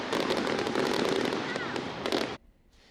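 Fireworks at a Boomfest celebration ahead of the Fourth of July in Norfolk, Nebraska, a dense rapid crackle of bursts that stops abruptly, leaving quiet.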